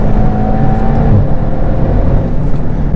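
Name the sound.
Golf GTI TCR accelerating out of a corner on track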